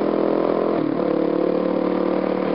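A motorcycle engine drones steadily and close while the bike rides over a bumpy road, a continuous mid-pitched hum with a slight shift partway through. No talk is heard.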